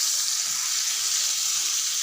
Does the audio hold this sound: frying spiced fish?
yes